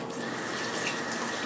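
A kitchen sink tap runs in a steady, close hiss of flowing water that fills the whole short stretch, with no voices over it.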